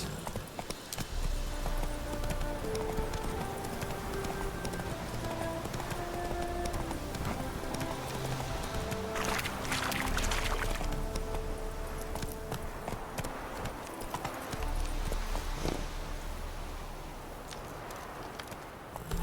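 Roach the horse galloping in The Witcher 3, steady drumming hoofbeats under a dense, busy game soundscape with music and ambient noise throughout.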